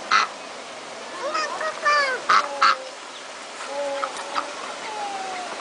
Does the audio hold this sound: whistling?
no